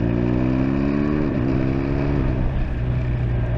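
A motorbike with a motocross feel rides down the road, its engine a steady, close drone that shifts pitch partway through as it pulls away, with no voices.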